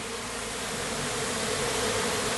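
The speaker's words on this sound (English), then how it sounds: "you can hear the buzz going on" A swarm of honeybees settling into a new spot outdoors makes a dense, continuous buzzing hum. It is loud and steady throughout, with no voices.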